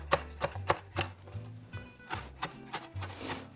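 A kitchen knife chopping cilantro stems on a cutting board for salsa, a series of quiet, irregularly spaced taps close by with no talking.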